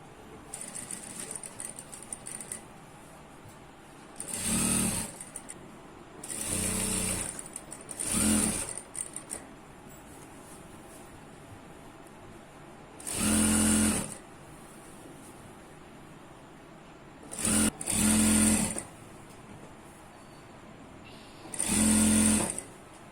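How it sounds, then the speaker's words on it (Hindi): A sewing machine stitches the waistband of ankle-length pants in several loud buzzing bursts of a few seconds each, separated by quieter pauses with faint background hum, all close up. "जो हमारा ज्वाइन है इस ज्वाइन को हम यहाँ पे रखेंगे और इसे पहले पूरे राउंड में सिलाई लगाएंगे"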